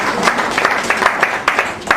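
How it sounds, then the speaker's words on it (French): Audience clapping for a man at an NGO activity report event, a short burst of many hands with a few distinct louder claps standing out, close and fairly loud, steady for the whole stretch. "je voudrais qu'il y ait des applaudissements avisés pour lui"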